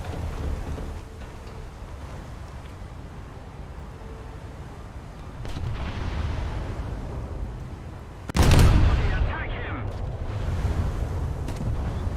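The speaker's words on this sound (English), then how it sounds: "There comes another salvo from Hugo, which is going to hurt a lot." Heavy gun salvo from the battleship Hugo in a World of Warships naval battle, arriving as a single loud broadband boom with a rumbling tail about two-thirds through, over a steady bed of wind and sea noise.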